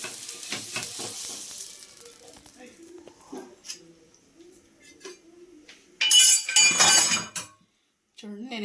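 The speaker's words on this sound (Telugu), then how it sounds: "కొంచెం ఆయిల్ వేసి ఎర్రగడ్డతో ఇలా బాగా రుద్దుకోండి" An onion rubbed over a hot, oiled pan sizzles in loud hissing bursts among clinks of utensils, with a voice talking nearby.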